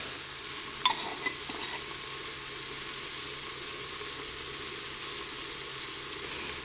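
Chopped onion, about half a large one, sizzles steadily in a pot for lasagna soup, a continuous bright frying hiss with a few faint clinks of stirring near the start.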